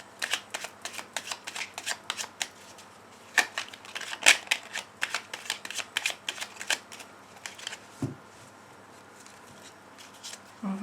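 Fairy oracle cards shuffled by hand before a reading, a series of crisp riffling bursts in an irregular rhythm, close and fairly loud, with one soft thud partway through.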